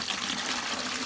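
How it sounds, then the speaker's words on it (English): Cold water dumped into a container to thaw a whole turkey, heard as a loud, continuous close-up gush with no break and no talk. "take some cold water and dump it right in here"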